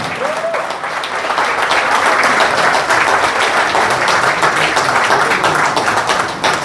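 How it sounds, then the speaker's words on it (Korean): Warm, sustained applause from the audience at a Heungsadan assembly lecture in Shanghai, a thick continuous roar of clapping hands that holds steady at full strength for several seconds. "여러분, 다시 한번 뜨겁게 존경의 마음으로 박수하여 주시기 바랍니다"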